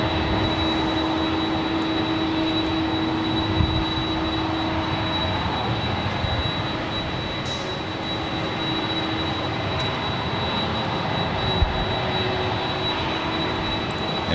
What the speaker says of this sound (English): This is Delta Airlines Flight 553 heading to JFK in the 767-300ER